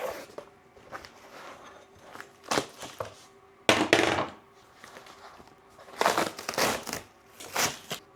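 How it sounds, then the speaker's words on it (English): Scissors snip away excess crafting foam around a scallop-stitched in-the-hoop heart tag, giving irregular crunchy cuts and crinkles in bursts, close and fairly loud, with quieter handling between. "I'm just cutting off the excess crafting foam"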